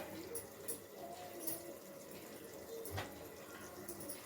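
Heated water pours steadily into a pot of soaked rice and lentils for Chettinad rice-dal, a soft continuous splashing trickle with small surges and drips.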